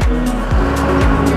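Tricycle motor passing on a road near a Bacoor flyover, a loud engine whine sweeping past close by, with repeated rising pitch sweeps over a steady low rumble.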